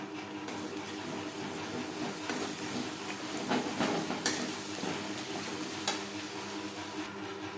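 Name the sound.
spice paste being sautéed in a pan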